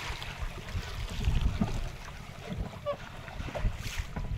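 River waves slosh and lap against a small fishing boat on a Sundarban river at high spring tide, with steady, close, uneven water movement and wind.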